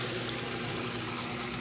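Water rushes out of a Maytag washing machine as it spins, a steady, dense hiss and gurgle that holds at an even level throughout with no voices.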